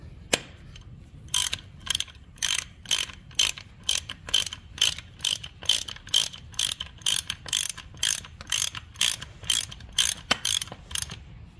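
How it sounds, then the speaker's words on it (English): A ratchet with a 1/2-inch Allen socket drives bolts during a Cummins NT 855 / N14 diesel engine overhead rebuild, giving a long, steady run of quick, loud repeated clicks in bursts, with no talking. "I'm gonna run these in with a 1/2-inch Allen."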